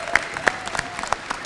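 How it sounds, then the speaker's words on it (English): A few scattered hand claps ring out at a community center reopening celebration, sparse and uneven, with a faint voice running beneath them. "If you guys can help me with one more round of applause for Recreation and Parks"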